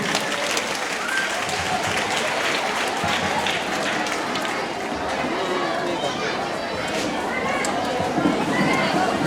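An audience at a school annual function claps for the school director, a dense, continuous wash of applause mixed with crowd chatter, with spoken announcements over it.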